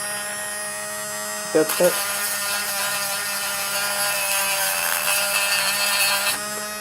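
A homemade electric sander starts up after a couple of short clicks and runs steadily as a loud, broadband grinding whir, then cuts off near the end; a brief spoken word comes early.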